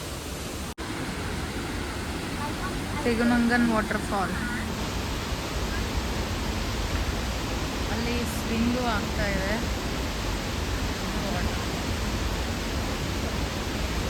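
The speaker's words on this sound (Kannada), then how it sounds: "ನಾವು ಬಂದಿರೋದು ತೆಗುನಂಗನ್ ವಾಟರ್ಫಾಲ್" Tegenungan waterfall in Bali sends a loud, steady rushing roar of falling water through the whole stretch, with people talking over it nearby.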